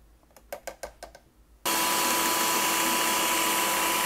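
A blender crushes ice for a cold, no-cook healthy breakfast: a few sharp clattering knocks as cubes drop in, then the motor roars on loud and steady with a bright whine, running continuously to the end.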